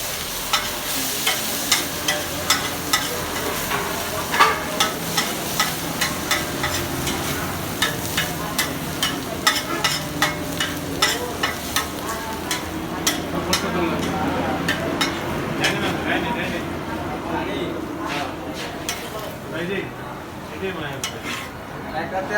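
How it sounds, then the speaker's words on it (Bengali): Onions fry and sizzle in oil, a continuous hiss broken by regular clinks and scrapes of a utensil against the pot, with some indistinct voices in the background. "পেঁয়াজ ভাজি হবে।"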